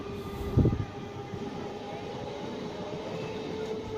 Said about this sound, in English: A 12-car EMU train.